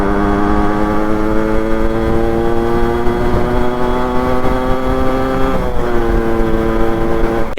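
A Yamaha RXZ 133cc two-stroke motorcycle engine runs loud and close with a buzzy, steady harmonic drone held at high revs, dipping briefly near the end before picking back up, with no one talking.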